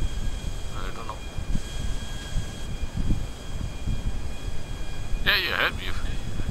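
A plane's engine in GTA V drones steadily and fairly loud throughout, with a brief higher whine near the end, while players talk over it.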